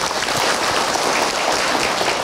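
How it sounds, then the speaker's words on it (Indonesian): Dense, steady applause from a gathered congregation at an Islamic religious talk show, loud and continuous throughout with no voices over it. "tepuk tangan buat Ibu Sumiah jemaah"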